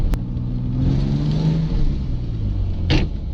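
A BMW E30 engine revving at high RPM during a gear shift, a close rumbling drone that rises then sags as the revs fall, with a short mechanical clunk near the end and no talking.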